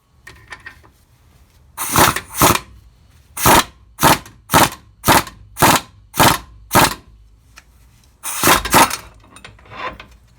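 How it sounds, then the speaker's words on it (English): An impact wrench drives a part into a Ford Ranger 4x4 front end during a rebuild, firing about ten sharp, loud rattling bursts in an uneven rhythm with short pauses between them, close to the microphone. "I'm just gonna slowly suck it in with my impact"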